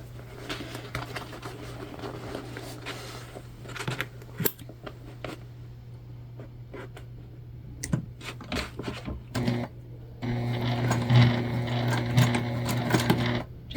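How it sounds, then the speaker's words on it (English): A home sewing machine stitches across a fabric bucket bag, starting with scattered clicks and handling noises, then settling into a steady, close rattling run of stitches over the final few seconds. "And we're gonna go ahead and sew across."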